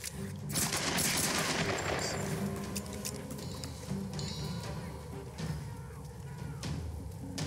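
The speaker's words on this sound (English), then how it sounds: "Shoot him in the back" Gunfire rattles in the video game Tomb Raider, a dense, fairly quiet stream of overlapping shots and bursts with a busy, crackly game ambience running throughout.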